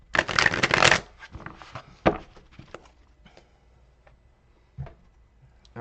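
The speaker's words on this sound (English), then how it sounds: "Go ahead and shuffle these and see if she yells at me before I go over there." Tarot cards are shuffled in a quick, loud riffling burst close by, followed by softer scattered taps and card handling noises in a quiet room.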